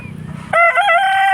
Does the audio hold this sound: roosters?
yes